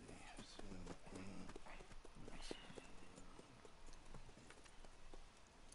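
Horse hooves clip-clop at a walking pace in the Red Dead Redemption 2 video game, a steady run of soft, fairly quiet hoof falls with faint talk at the start.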